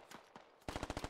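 Gunfire in the Squad Ops video game: a few scattered single shots, then a rapid, steady automatic burst of about eight close, punchy rounds, with no talking over it.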